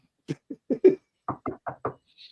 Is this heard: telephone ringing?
no